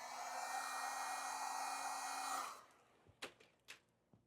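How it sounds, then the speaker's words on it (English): A heat gun blows steadily and loudly on vinyl wrap edges on a car door, then cuts off abruptly, followed by a few sharp handling clicks. "we're just going to go and heat these up"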